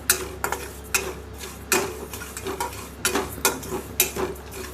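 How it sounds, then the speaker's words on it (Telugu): Tamarind leaves dry roasting in a pan on low heat without oil, with soft stirring scrapes and taps from a spoon against the pan in irregular bursts, close and moderately loud. "అన్ని సిమ్లో పెట్టే ఆయిల్ లేకుండానే వేయించాలి"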